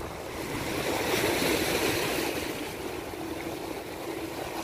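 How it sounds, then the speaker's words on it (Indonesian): Waves breaking on a Red Sea beach, a steady near wash of surf that swells and recedes, mixed with wind rumble on the microphone and no talk over it. "Ini ombak. Ombaknya pantai Laut Merah sekarang enggak begitu gede."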